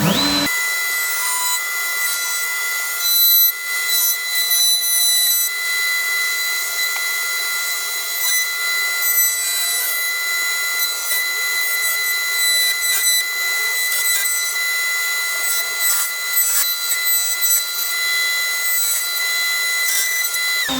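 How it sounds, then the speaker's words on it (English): A router cuts into the wood of a Les Paul guitar body, giving a high, steady whine with a harsh rasp, loud and close, that keeps going with slight dips throughout. "so you can see now I've routed round there."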